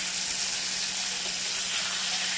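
Pieces of brinjal fry in plenty of hot oil, producing a steady, close hissing sizzle without any talking.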